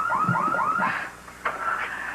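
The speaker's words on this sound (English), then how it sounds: "Goodness sakes, Star, did you set off the alarm accidentally?" Home security alarm going off indoors in a television drama, a series of repeated rising electronic chirps followed by a sustained warbling tone, fairly loud and alone.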